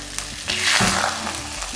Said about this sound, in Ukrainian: І тепер вливаю яєчну масу. І перемішую це все.